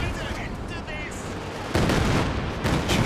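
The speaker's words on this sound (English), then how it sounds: "creeping barrage doing alright here" A Katyusha creeping barrage in Company of Heroes 2 thunders in as rumbling artillery fire, growing louder partway through, with a commentator talking over the battle.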